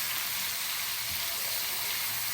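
Ginger garlic paste frying in hot oil for a kebab handi, a steady, dense sizzle that stays even and close throughout with no pauses.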